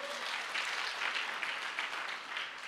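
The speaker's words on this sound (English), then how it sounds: "Let's clap for them." A congregation at a women's church conference applauds, a soft, continuous patter of many hands at a distance, steady from start to finish.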